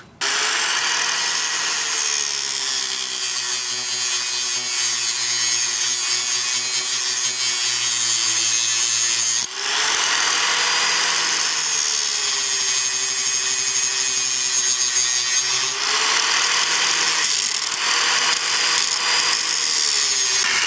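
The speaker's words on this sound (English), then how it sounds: "going to hit it with a grinder right here" An angle grinder cuts rebar pieces for a wine barrel smoker, a loud continuous high whine that sags in pitch as the disc bites. It cuts out briefly midway and then resumes, with no talking.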